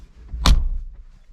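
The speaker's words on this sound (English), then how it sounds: "Your two doors, that's how they open and close." A New Holland tractor cab door swings shut with a single solid thud, close and fairly loud, preceded by a faint latch click and followed by quiet cab ambience.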